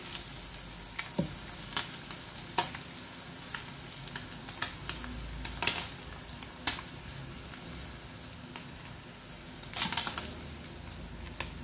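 A pork chop fries in a pan with a quiet, steady sizzle broken by sharp, irregular pops and crackles, and no one speaks.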